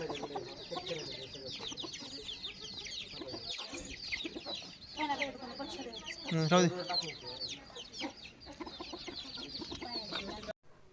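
Ten hens and a rooster kept by a grandmother for backyard poultry cluck in a steady, busy stream of short calls, close by, with a voice talking at times over the flock.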